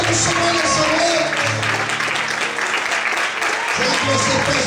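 A worshipping church congregation applauds at length, a thick wash of many hands clapping steadily and loudly, with an amplified preacher's voice speaking over it and a brief dip before the clapping swells again.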